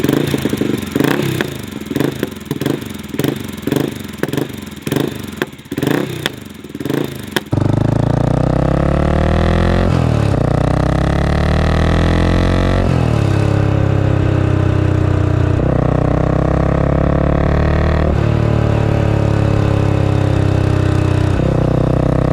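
A Honda GB500 single-cylinder motorcycle with an aftermarket exhaust first thumps in a loud, rhythmic idle, then revs up and down in strong repeated sweeps, close and unaccompanied by talk.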